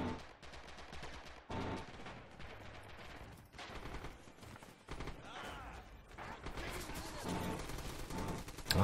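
Gunfire in a Red Orchestra 2 multiplayer battle at a bridge, with bursts of rifle and machine-gun shots coming from a window, continuous and fairly loud throughout.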